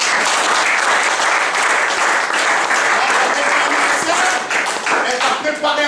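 A church congregation applauds loudly and steadily for the Lord during a French-language sermon, with dense clapping and crowd noise filling the whole stretch.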